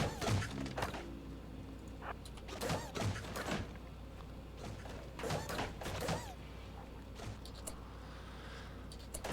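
Heavy thuds and crunching impacts from auto mortar shells breaking through a colony wall in the game RimWorld, several hits spread across the stretch over a steady bed of background game sound.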